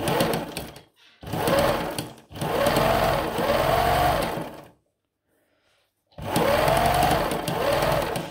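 An old all-metal sewing machine runs in steady whirring bursts of a few seconds each, loud and close, with short pauses and one longer silence between stitching runs, no voices.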